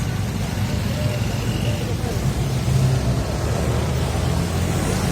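A bus passes through steady street traffic in San Gil, Colombia, its engine rumble holding near and fairly loud throughout and swelling slightly midway, with continuous road noise around it.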